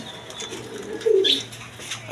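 A pair of Rajgolla pigeons gives a soft, low cooing phrase near the middle of the clip, with a faint higher call and quiet background noise around it.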